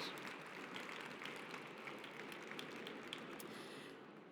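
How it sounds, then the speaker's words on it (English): Audience applause after a panel session on city and industry alliances, a steady dense wash of clapping filling the hall, moderately loud throughout and tapering slightly at the end. "Please give them an incredible warm round of applause"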